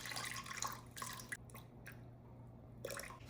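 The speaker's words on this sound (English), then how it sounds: "And we're gonna add in our water." Water poured into a bowl for sourdough dough, faint splashing and dripping in a few short bursts with quiet gaps between, close by and alone.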